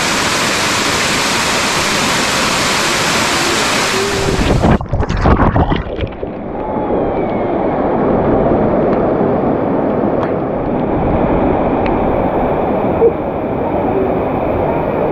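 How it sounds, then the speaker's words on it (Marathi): A small waterfall beside Kondeshwar temple near Badlapur pours in a continuous, close roar of falling water. A brief knocking disturbance interrupts it midway, then it settles into a softer, steady rush. "इथेच कोंडेश्वरच्या बाजूला छोटा धबधबा आहे"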